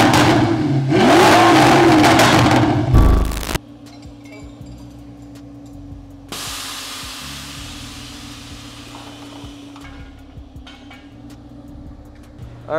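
An Audi R8 roars loudly for a few seconds with a revving engine, then drops to a quieter steady cabin hum and road drone as the car drives on.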